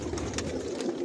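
Racer pigeons of an imported Janssen line coo softly in a loft, a continuous low murmur of overlapping calls at moderate volume with no talking.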